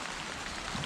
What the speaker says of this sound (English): This weekend we got this rain